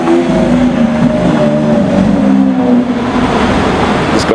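Ferrari GTC4Lusso engine running loud and close, a steady throaty drone with a low rumble that holds level for a few seconds.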